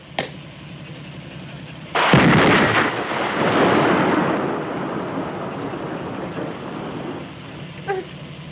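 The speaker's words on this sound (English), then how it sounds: "Fire in the hole!" Explosion and artillery fire from a 1958 war film: a heavy blast erupts suddenly and rumbles on loud and broad for several seconds, then fades into a lingering roar with a small sharp crack near the end.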